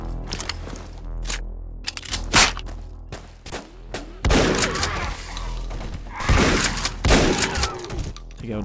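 Pit fiend gunfire in the Ashes: Afterglow shooter, a string of loud, sharp shots and cracking impacts in irregular bursts, some heavier thuds mixed in, with dense clattering between volleys.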